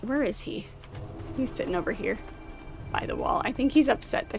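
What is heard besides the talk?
No distinct noise like a dog, phone or traffic.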